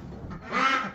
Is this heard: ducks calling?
yes